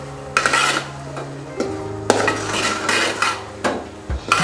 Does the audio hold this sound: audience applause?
no